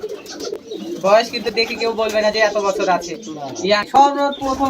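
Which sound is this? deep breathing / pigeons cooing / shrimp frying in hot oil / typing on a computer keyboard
pigeons cooing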